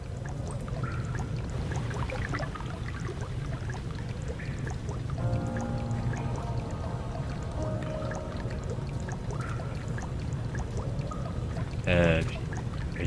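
Liquid, apparently oil, pours steadily into a tank in the Amnesia: The Dark Descent reservoir puzzle, a continuous watery gush with a brief burbling swell near the end, under faint background voice.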